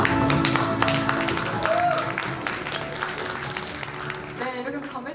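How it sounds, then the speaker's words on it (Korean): Applause at a 2025 textile and fashion industry New Year reception, scattered hand claps spreading through a banquet crowd for the former chairman, steady and moderately loud with voices murmuring and talking over it. "우리 노희찬 전임 회장님께 큰 박수 부탁드립니다"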